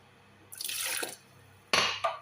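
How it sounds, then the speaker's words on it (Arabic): Water poured into a bowl of mashed fava beans in a kitchen, heard as two short splashing pours, the second one sharper, with a quiet pause between them and no talk. "هحط مية"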